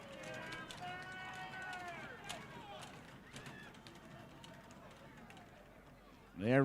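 A college ice hockey arena crowd at a UConn Huskies home game against the Coast Guard Bears roars in a sustained, distant wash of cheering, with whistles and shouts rising through it and a louder burst near the end.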